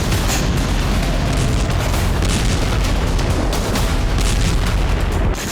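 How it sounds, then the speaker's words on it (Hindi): Explosions from Russian missile and drone strikes in Ukraine: a loud, dense, sustained roar of blasts and rumbling that fills the whole stretch at close range, with no talking. "रूस में हुए एक एक धमाकों के बदले कई धमाके।"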